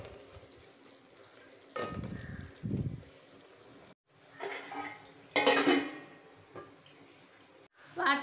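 Raw prawns being stirred in a pot for biryani, with scraping and clanking of a utensil against the metal pot in irregular bursts between quieter simmering stretches.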